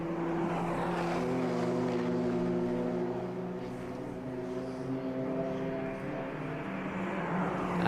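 BMW 318 iS touring race car passing through a circuit turn, a steady droning engine tone with strong harmonics, loud and sustained, gradually fading slightly as it goes by.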